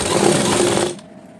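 A sewing machine stitching a seam on a Patiyala salwar whirs steadily and close for about a second, then stops abruptly, leaving a faint low hum.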